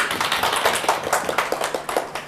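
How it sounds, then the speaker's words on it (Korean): A small lecture-hall audience claps briefly at the start of a Korean real-estate licensing law class, close, rhythmic hand claps in quick succession that fade after a couple of seconds. "박수 한번 쳐주시고"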